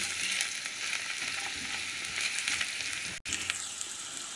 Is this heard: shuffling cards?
no